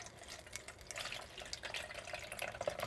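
Water trickling and splashing into a small spray bottle, a steady liquid pour with light dripping, close by and fairly quiet.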